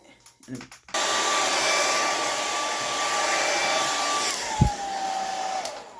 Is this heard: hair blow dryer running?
yes